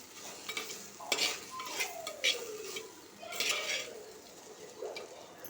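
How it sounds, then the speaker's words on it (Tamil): Okra frying in a little oil in a pan is stirred in bursts, with scraping utensil strokes and clinks over a soft sizzle, close and uneven in rhythm. "இப்போ நல்லா கிண்டி விட்டுறலாம்"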